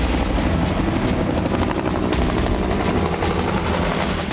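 A Ukrainian military helicopter flies close overhead in a loud, continuous rotor roar, while a door-mounted machine gun fires at drones; the gunfire is buried in the dense rotor noise.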